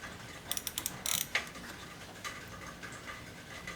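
Small tool turning tiny screws on a BMW E30 hood latch, faint quick ratcheting clicks in a short burst, then a few soft scattered ticks.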